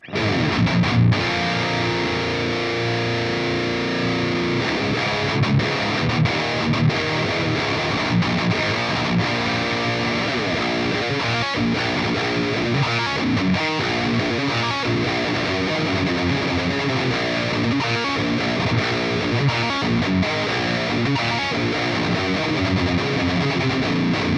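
Electric guitar plays continuously through heavy overdrive on a Line 6 Pod Express, a thick distorted tone sustained loudly throughout with no voices.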